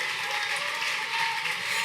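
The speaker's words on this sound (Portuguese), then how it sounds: "Você pode aplaudir Jesus?" A church congregation in Portugal applauds steadily as a dense, even wash of clapping that holds at the same level throughout, with no voice rising above it.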